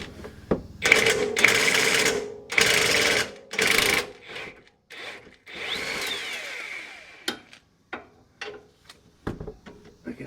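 Hand ratchet on a wobble extension loosening 13 mm bolts on a 2015-2018 Mustang GT exhaust, sounding as bursts of rapid clicking and metallic rattles separated by pauses, close and clear.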